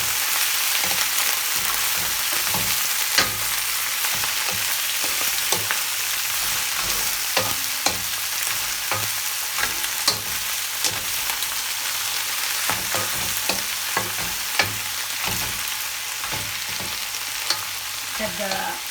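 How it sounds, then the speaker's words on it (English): Green vegetables stir-fried with Chinese cured bacon in a hot wok, continuous close sizzling with frequent sharp clicks and scrapes of a spatula tossing the food. "I put this veggie in the stem. And then I put"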